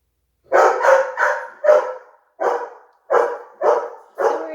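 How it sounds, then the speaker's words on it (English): Dogs eager to go outside bark in a loud, close series of about eight sharp barks, spaced roughly evenly with brief pauses between them. "the bells in the background means my dogs are looking to go outside"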